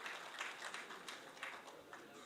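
Applause and clapping in a Senate plenary chamber, a steady patter of many hands that continues through the whole stretch at a fairly even level, with slight surges.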